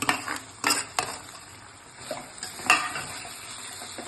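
Eggplant is stirred into a cooked spice masala in a pan for a Kathiyawadi baingan bharta, a soft sizzle under repeated metal spoon scrapes and clinks against the pan, no voices.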